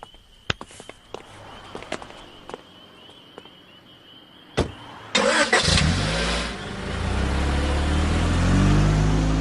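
A car engine starts up and the vehicle pulls away, a broad steady roar rising after scattered footsteps and knocks, growing louder and fuller toward the end with no talk over it.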